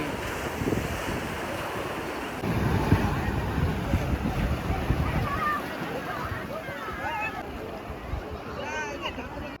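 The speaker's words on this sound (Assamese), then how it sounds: "সাগৰৰ যিটো ঢৌ যিটো আৱাজ হয় সেইটো আপোনালোকে শুনিব" Sea waves washing onto Digha beach, West Bengal, with wind buffeting the microphone and bathers' voices talking faintly in the background.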